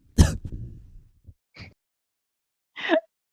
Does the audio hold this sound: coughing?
yes